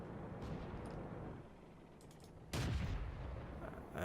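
A short-barreled tank gun on a Matilda Black Prince fires once in World of Tanks, a sudden loud boom over a steady rumbling engine background, with no talking.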